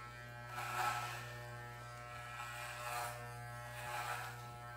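Electric clippers shave a man's head, a steady close buzz that swells and eases as the blades pass, with a faint mains hum underneath.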